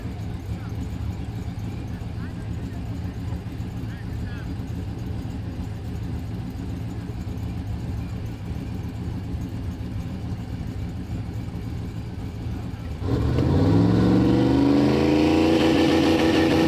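Tailgate drag racing at a no-prep event: cars idle in a low steady burble before engines suddenly rev hard and accelerate loudly near the end, with an announcer talking over the racing.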